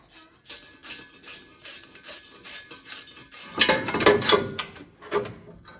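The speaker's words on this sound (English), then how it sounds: "They're all easier than the 2 that I just removed, so just go ahead and loosen them off too." Wrench loosening the exhaust manifold nuts on a Toyota Tundra: a run of close mechanical rasps and ratcheting scrapes, quiet at first, then louder and denser for a couple of seconds before easing off.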